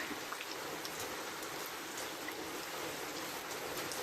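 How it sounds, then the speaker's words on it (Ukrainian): Steady light spring rain in a village patters softly and evenly, a faint, continuous hiss of drops falling on surfaces with no speech. "Мокро скрізь а йде дощик."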